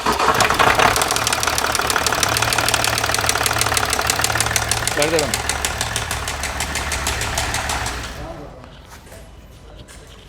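Range Rover Sport V6 engine idling with heavy knocking: a loud, rapid, rhythmic clatter runs steadily, then dies away as the engine shuts off near the end, with a brief spoken word.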